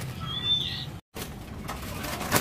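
A Hong Kong myna (jalak Hongkong) at a bird shop gives a rising whistled call, followed by brief rustling and a short burst of chatter, fairly close.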